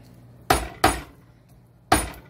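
A garlic clove smashed with a flat object on a hard surface, three sharp, loud, close knocks, two in quick succession and a third after a pause.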